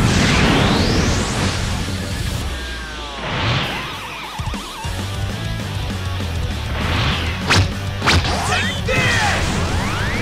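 Vegeta's Big Bang attack from a Dragon Ball open-world fighting game, a loud sustained barrage of whooshes, energy blasts and crashing explosions with sharp impacts near the end, alone without talk.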